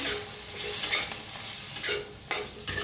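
Onion goes into a hot iron kadai to dry roast, and a spatula scrapes and stirs in a few distinct strokes over a soft continuous hiss, close up.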